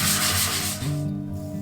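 Sandpaper rubs back and forth against a wooden bass amp enclosure, a close, dense scratchy rasp that continues for under two seconds with no voices.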